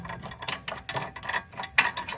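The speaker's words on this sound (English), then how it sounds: "Next thing would be removing the bracket, and their bolts back here." A ratchet wrench working on the rear brake bracket bolts of a 2019 Nissan Altima AWD, rapid clicking pawl strokes in short uneven bursts, close and clear, with no talking.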